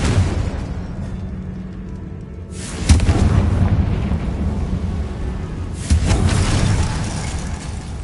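A Confringo blasting spell goes off in Hogwarts Legacy: two deep, booming explosions a few seconds apart, each bursting loudly and then rolling away into a low rumble, with no voices.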